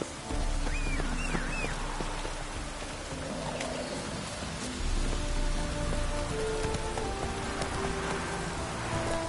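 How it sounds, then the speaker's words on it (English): Rain falls in the open world of the video game Witcher 3, a continuous patter and hiss on surfaces with a low rumble and faint distant tonal calls, steady and close with no talking. "No use doing any work in this rain."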